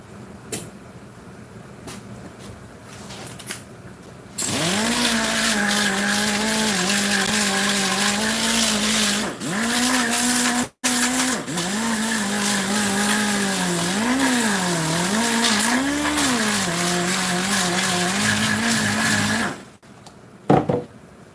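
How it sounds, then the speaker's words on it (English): A power grinder works old material off a beauty shop chair, its loud whining motor starting abruptly, dipping briefly midway, wavering in pitch under load, then cutting off near the end, with quieter handling noises before and after. "I'm gonna attempt to grind this right here off a little bit."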